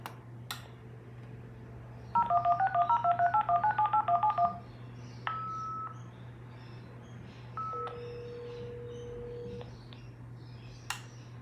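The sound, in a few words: Banksia Wave SP 336 modem dialing a phone number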